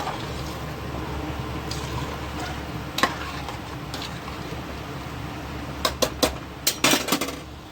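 Water pours into a metal cooking pot of pulao with mixed spices, splashing and a few clinks near the end, over a steady low background hum.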